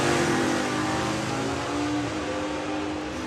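Big-block and small-block drag racing cars at a track, a loud, dense engine roar filling the whole stretch and easing slightly toward the end, with no talking.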